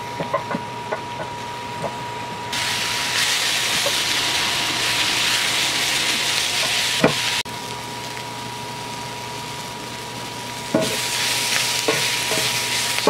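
Onions, carrots and aromatics hit fresh hot oil in a pan, then fry in a steady loud sizzle with a few clinks and stirring knocks from a utensil.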